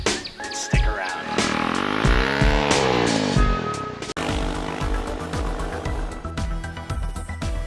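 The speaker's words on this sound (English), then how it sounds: "Are you looking to add some growl to your 390 adventure?" A KTM 390 Adventure motorcycle with an aftermarket exhaust revs hard and loud close by, the engine rising and falling in repeated throttle blips with a gravelly growl that fills the whole stretch.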